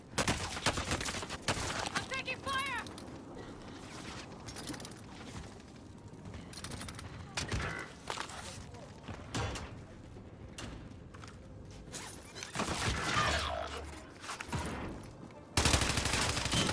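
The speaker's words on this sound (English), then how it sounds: "I'm taking fire." Call of Duty Rebirth gunfire crackles in scattered bursts and rapid automatic volleys, fairly quiet overall, with occasional voices talking between shots.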